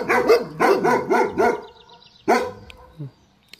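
A dog barks four times in quick succession, then once more after a pause, followed by a soft yip, loud and close, with no talk over it.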